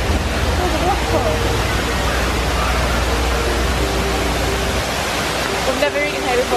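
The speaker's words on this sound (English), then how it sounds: "Oh, the waterfall." Indoor waterfall in a Rainforest Cafe restaurant gives a steady, loud rushing wash of falling water, with faint murmur and some talk mixed into the continuous roar.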